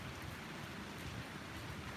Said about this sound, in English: It's definitely raining